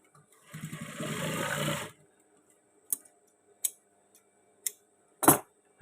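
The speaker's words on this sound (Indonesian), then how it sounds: "kita jahit tali sabuknya, kita lipat seperti ini" A sewing machine runs a short, steady burst of rapid stitching on a trouser belt strap, then falls silent before a few sharp clicks and snips of fabric handling follow.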